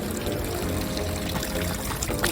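Running water from a public drinking fountain in Geneva, a steady pouring splash that stays close and continuous without any talk.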